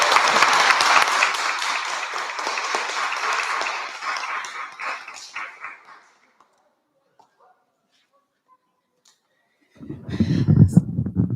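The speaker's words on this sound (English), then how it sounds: "Could maybe around the school we could give them one big round of applause." A school crowd applauds its graduates in a big round of clapping that holds steady for about four seconds, fades out by six, then gives way to silence and a burst of low rumbling noise near the end.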